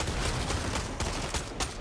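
Gunfire in Fortnite during a duo cash cup match, rapid shots crackling in steady bursts across the whole moment, fairly loud and dense with no talking.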